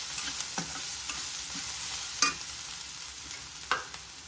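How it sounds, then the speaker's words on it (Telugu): Ginger garlic paste with turmeric sizzling in oil for Telangana-style ridge gourd curry, a soft continuous fry hiss with occasional scrapes of a stirring spoon, close and quiet, no voices. "ఇలా కలుపుతూ ఉండాలి."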